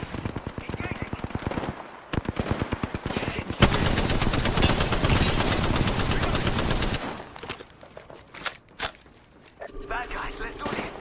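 Apex Legends gunfire crackles in rapid automatic bursts, first spaced volleys then a long loud sustained stream, trailing into scattered shots and footsteps, with players talking over it.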